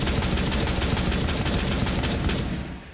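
Rapid, closely spaced shots from a semi-automatic weapon in the game Rainbow Six Siege fire in a loud, steady stream for nearly three seconds, then break off and fade.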